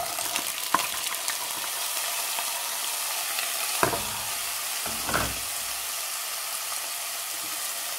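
Peppers, onions and garlic sizzle steadily in a saucepan, a continuous bright frying hiss with a few soft stirring knocks and scrapes partway through.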